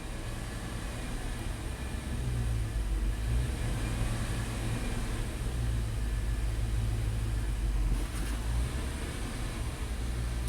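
A Dodge truck engine idles with an elevated, uneven idle. A steady low rumble holds close and constant throughout, and nobody talks.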